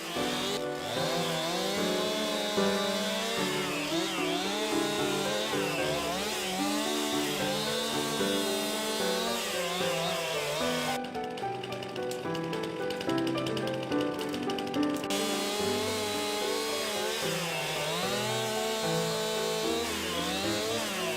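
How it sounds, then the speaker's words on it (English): A chainsaw cuts wood for a house build, running loud and steady for the whole stretch with a continuous buzzing drone, briefly shifting to a harsher rattling tone partway through. "We'll start our journey off by using our handy chainsaw to cut wood."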